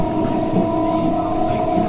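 A Vijayawada–Machilipatnam passenger train pulling out, heard from on board: a loud, steady rumble of wheels and carriage with a constant droning hum and no distinct breaks.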